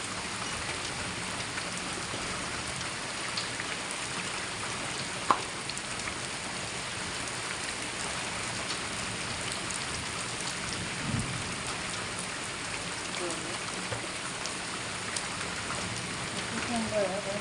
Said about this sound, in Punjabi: ਸਵੇਰ ਸਵੇਰ ਹੀ ਬਾਰਿਸ਼ ਸਟਾਰਟ ਹੋ ਗਈ